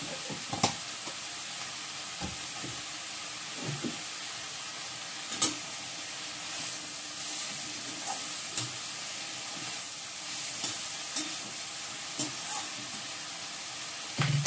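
Bay leaves hit hot oil in a pan of home-cooked food, raising a steady close frying sizzle and hiss, broken by scattered sharp spits and pops and a few light stirring clicks.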